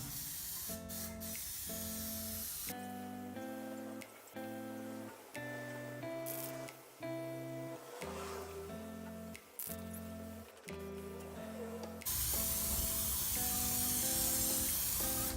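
An aerosol can sprays a gloss Plasti Dip coat onto the front grille of a Holden Commodore VX. The hissing comes in bursts, with a steady tonal hum underneath, and ends in one longer, louder spray.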